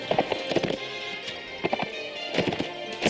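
Horse hooves clip-clop in the Mount & Blade Warband video game, with irregular clusters of hoof thuds separated by short pauses and a soft background hum.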